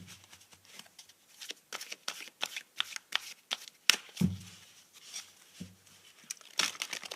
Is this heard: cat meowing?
no